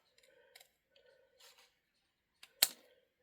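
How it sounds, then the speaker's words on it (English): Scissors snip off excess card stock in a paper-craft scene card: a few faint, soft cutting sounds, then one sharp, loud close-up snip near the end, with no voices. "We're just going to cut off that excess."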